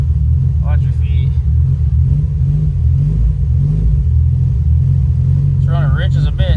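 A freshly started, rich-running Mazda Miata engine rumbles steadily at idle, loud and close, with people talking briefly over it.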